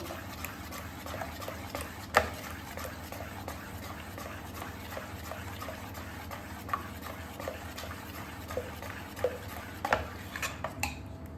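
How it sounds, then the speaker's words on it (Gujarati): Spoon stirring salt into Gujarati dhokla batter in a bowl, soft scraping and occasional light clinks against the bowl at an irregular pace, faint and close over a steady background hum. "હવે આપણે મીઠાને પણ સારી રીતે મિક્સ કરી લઈશું."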